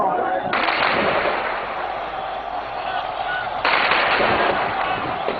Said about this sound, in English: In Homs, the crack of bullets didn't deter the demonstrators.